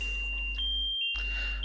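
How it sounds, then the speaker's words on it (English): Bite alarms in Russian Fishing 4 sound as a steady electronic tone over a low hum, with a short break before the tone comes back and no talking over it. "you can hear the bite alarms"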